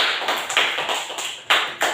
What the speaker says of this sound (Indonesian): Kita semua tepuk tangan dulu untuk Nona Ani.